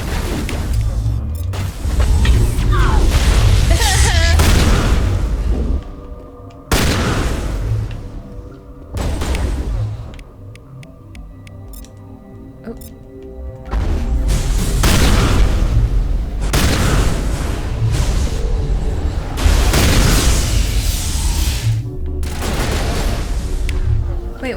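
Rapid gunfire bursts and heavy booming explosions from a Mass Effect firefight inside a lab, loud and dense, with short lulls between volleys.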